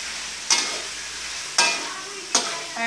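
Mushrooms sizzle in a frying pan with a soft steady hiss, broken by three sharp scraping clacks of a utensil stirring against the pan.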